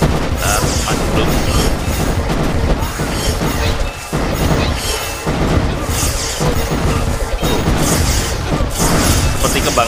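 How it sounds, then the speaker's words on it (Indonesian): Dense, continuous explosions and booms in Kingdom Rush Frontiers pile up without letup, loud and rumbling across the whole stretch, with brief dips between bursts. "boom boom boom boom, meledak meledak terus"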